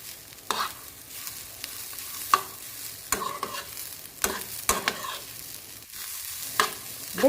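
Beetroot thoran being stirred with grated coconut in a pan, a steady scraping and stirring with repeated sharp spatula knocks against the pan over a soft background sizzle.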